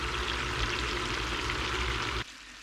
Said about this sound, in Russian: Ну и сейчас их отправляем на нашу чугуночку жариться.